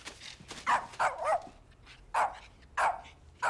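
A dog in the TV drama The Wire barks about six times in short, sharp bursts with brief gaps between them, clearly heard against a quiet background.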